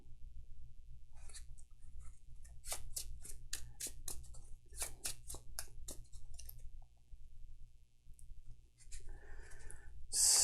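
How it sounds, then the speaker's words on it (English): Arkham Horror game cards being shuffled by hand, a quiet series of crisp riffling snaps and flicks in quick bursts, close and soft over a low background hum. "Now these are going to get shuffled back in."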